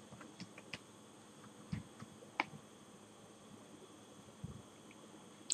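Light typing on a computer keyboard, a sparse, uneven run of soft key clicks over quiet room hiss, with no one speaking.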